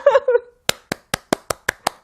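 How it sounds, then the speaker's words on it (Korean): A short burst of laughter gives way to seven crisp, close hand claps in a quick, even rhythm. "박수 쳐줘."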